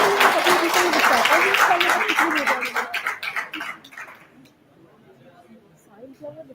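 Conference audience applauding a student award winner on stage at a physiotherapy event, a dense burst of clapping that fades after about four seconds, then quiet room murmur with faint voices.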